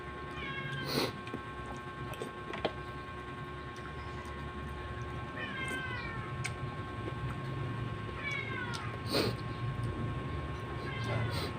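A hungry cat meows three times, spaced a few seconds apart, against a steady low background hum, with faint voices in the background.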